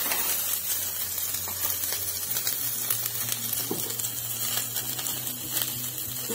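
Onions with cumin sizzling and frying in a pan for a village-style chicken curry, a steady close crackle with faint stirring clinks throughout, no talk.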